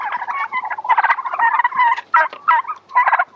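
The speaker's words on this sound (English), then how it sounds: "These are actually a broad-breasted white turkey" Broad-breasted white turkeys in a pastured flock gobble loudly and close, a dense run of overlapping rattling calls with brief pauses between bursts.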